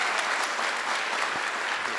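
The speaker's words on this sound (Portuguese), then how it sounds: "eu quero que vocês recebam com uma grande salva de palmas nosso querido" A crowd gives a steady wash of applause welcoming Edson Santos at a sales partners' event, with continuous dense clapping and no gaps.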